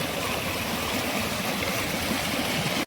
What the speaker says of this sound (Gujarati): અહીં બસ બેઠા રહીને આ નદીનો ઘૂઘવાટ સાંભળ્યા કરી